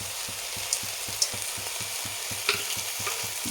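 Whole poppy seeds and fried peanuts sizzle with water spinach in a hot pan. A steady frying hiss runs throughout, broken by a regular rhythm of stirring scrapes and a few sharp clinks.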